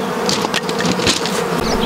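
Honey bees from a split hive swarm close by in a dense, steady buzz, with individual bees droning past now and then.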